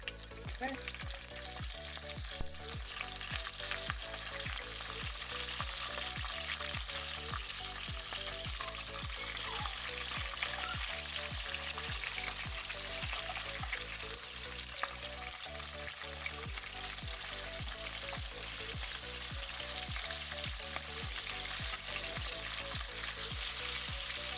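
Chicken caldereta frying in a pan and being stirred, a steady crackling sizzle with regular soft scraping strokes of a utensil repeating throughout, heard alone at close range.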